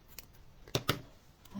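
Scissors cut paper for a handmade star-card mini-album, with a few quick close snips, two of them sharp and prominent, in an otherwise quiet room.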